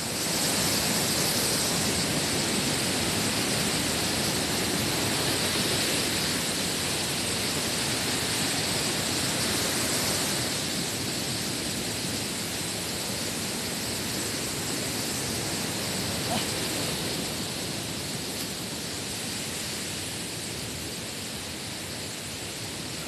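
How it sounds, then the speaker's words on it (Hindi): Wind blows hard across the microphone at a viewpoint above Langvoku waterfall in Karbi Anglong, a continuous loud, broad roar that eases only slightly, with no voices. "हवा मार रहा है"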